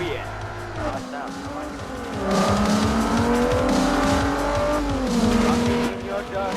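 Engine note and tire squeal from a car in Forza Motorsport 4 on the Xbox 360, revving and climbing in pitch under a running commentary.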